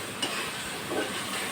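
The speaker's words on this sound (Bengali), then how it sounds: "এটাকে আমি একটু ভাজি।" Shrimp frying in a pan in the making of a shrimp curry: a soft, steady sizzle with faint crackles, heard close and alone.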